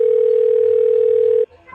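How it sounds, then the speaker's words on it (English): A cell phone placing an outgoing call gives a loud, steady, unbroken tone that cuts off abruptly near the end, followed by faint low background sound. "It's ringing"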